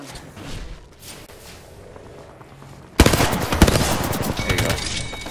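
Apex Legends gunfire: after a few quieter seconds of faint game ambience, a burst of loud rapid shots erupts and continues as a dense close volley to the end.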